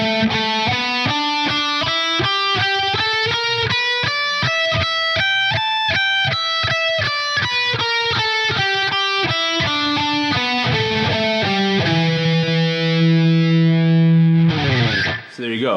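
An electric guitar with distortion runs a three-note-per-string hybrid pentatonic blues scale, crisp evenly spaced notes climbing and then descending, ending on a sustained chord with a brief strum at the close.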